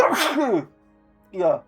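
A person with hay fever lets out one sharp, close sneeze, followed after a short pause by a brief spoken word.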